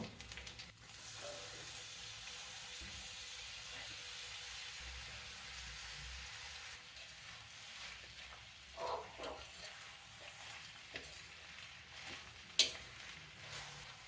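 Brinjal pieces frying with ginger and green chilli in a pan, a soft, steady sizzle running throughout, faint and low, with a few light clinks and stirring scrapes near the end.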